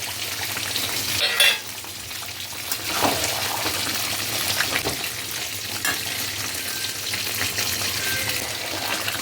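Fried potatoes tipped into a sizzling mutton curry and stirred, a steady frying hiss with scraping and clattering stirs close by, one louder clunk near the start.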